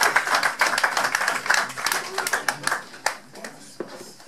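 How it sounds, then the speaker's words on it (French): People at a foundation's general meeting in Paris clap in a ragged burst of close, sharp handclaps that gradually thins into a few scattered claps, with voices murmuring alongside. "Nous allons applaudir, mesdames, messieurs"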